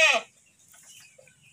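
A young goat kid on a goat farm gives a single short, fairly loud bleat, followed by faint farmyard quiet.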